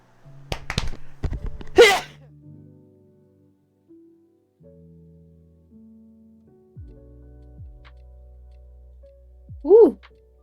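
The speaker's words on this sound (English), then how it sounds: "ooh, that's a long sneeze" A drawn-out sneeze during a role-playing game session: a few sharp catching breaths, then one forceful burst, followed by a quiet stretch and a short vocal exclamation near the end.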